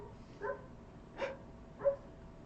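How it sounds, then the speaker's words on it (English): A dog named Franklin barking outdoors, three separate muffled barks spaced about a second apart, fairly distant and faint against a quiet background. "Franklin just barks every time he goes outside now"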